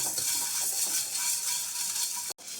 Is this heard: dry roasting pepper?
yes